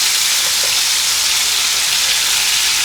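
Basil tomato sauce fries in plenty of oil in a pan for steak alla pizzaiola with penne, giving a loud, dense, unbroken hiss like heavy rain, steady from start to finish.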